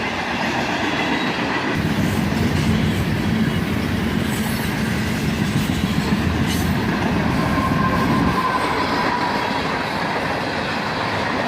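A freight train led by an ES44AC locomotive, with a GP40-3 trailing, rolls past close by with a loud, steady rumble and rattle of wagons that swells near the middle and holds throughout.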